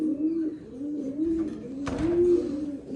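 A pair of Nuremberg lark pigeons coo softly and repeatedly in a rolling, throaty rhythm, close by, with a brief rustle or flutter partway through and no talking.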